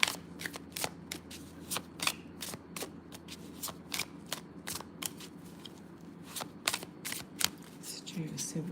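Tarot cards are shuffled for a collective reading, giving a steady run of crisp, close snapping riffles over a faint, low background hum.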